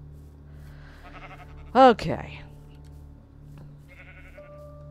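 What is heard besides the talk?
sheep bleating in a video game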